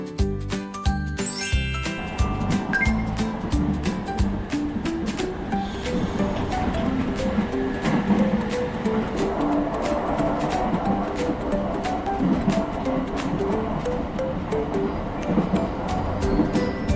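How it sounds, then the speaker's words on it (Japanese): A Tobu 50000 series electric train passes a level crossing, train rumble and rolling wheel noise under the crossing's repeating bell dings, steady and fairly close throughout. "東武5万系電車"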